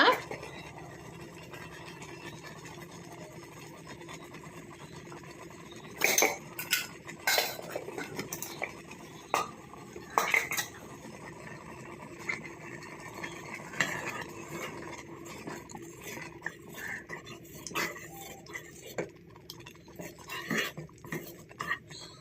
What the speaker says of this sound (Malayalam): അണ്ടിപ്പരിപ്പും മുന്തിരി എല്ലാം കൂടെ വഴറ്റിയെടുക്കാം